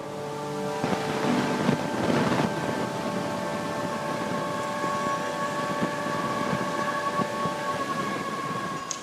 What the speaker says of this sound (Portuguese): Eu fiz esse som usando gravações para dar essa ideia de cotidiano, da rua.